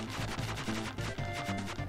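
Enemies shoot in rapid, rhythmic bursts in Kirby Super Star, a steady patter of retro game gunfire layered over looping music.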